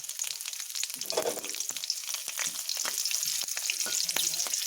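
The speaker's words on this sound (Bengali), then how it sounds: "এবার আমি এখানে দুটো কাঁচা লঙ্কা ফোড়ন দিচ্ছি আর দিয়ে নিচ্ছি কিছু গোটা জিরে" Green chillies and whole cumin seeds tempering in hot oil in a kadai, a crisp close sizzle with scattered small pops and crackles over a few seconds; nobody talks.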